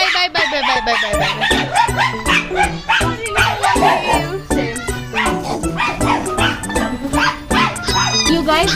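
Many dogs and puppies bark, yip and whimper all at once at the Maruthy Dog Shelter, a dense, loud, overlapping chorus close by with some higher puppy cries mixed in.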